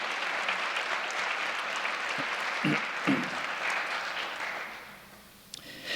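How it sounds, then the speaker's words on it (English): An audience at a school district event applauds a parent, a broad, sustained clapping that stays steady for several seconds, then fades and dies away near the end. "Again, a round of applause for Mrs. Feliciano."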